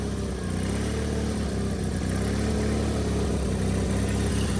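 A 1996 Wheel Horse 520 garden tractor engine idles loud and close with a steady, throbbing running note that wavers with a slight surge, and nothing else can be heard.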